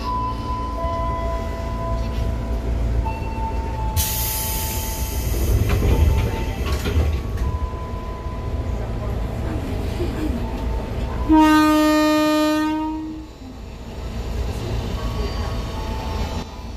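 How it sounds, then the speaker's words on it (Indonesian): A commuter train heading toward Kebayoran station rumbles steadily inside the carriage, with a horn blast and a sharp squeal of wheels partway through over constant rail noise. "Aku sekarang udah di kereta menuju ke stasiun Kebayoran."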